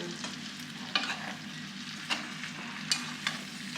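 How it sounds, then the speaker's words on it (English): Apple slices stirred in melted butter in a pan: a soft, low sizzle broken by several sharp scraping and clinking stirs, fairly close and quiet, no voices. "apple slices and coat it really well with that butter. Let's mix"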